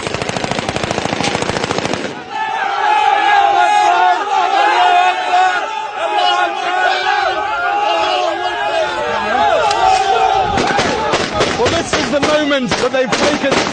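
Celebratory gunfire from NTC fighters entering Sirte from the east, a loud, dense stream of rapid automatic bursts with a crowd shouting underneath, sustained throughout and heaviest in the middle stretch.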